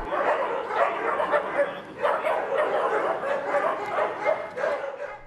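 Stray dogs at an animal shelter bark and yip continuously, several animals overlapping in a dense, loud chorus with occasional whimpers, no talk.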